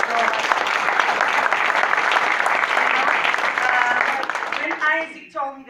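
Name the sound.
audience applause for a son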